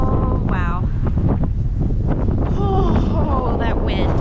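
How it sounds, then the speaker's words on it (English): Strong cold wind buffets the microphone on an exposed high spot, a constant loud rumble throughout while a person talks over it. "That wind is so bad, isn't it?"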